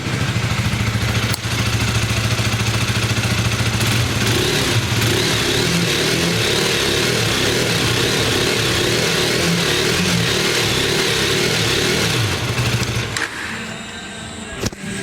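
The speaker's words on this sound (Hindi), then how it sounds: "गाड़ी को स्टार्ट कर लिया है, एक बार हम आपको इसका साउंड सुनवा देते हैं।" A KTM Adventure 250 motorcycle engine runs loud and close, idling steadily with revs rising and falling before cutting off near the end, heard alone without talk.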